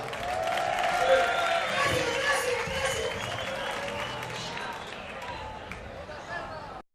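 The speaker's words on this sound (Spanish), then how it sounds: "Un aplauso para ella." Crowd applause and cheering at a live concert, a broad wash of clapping and voices that holds steady and then fades out toward the end.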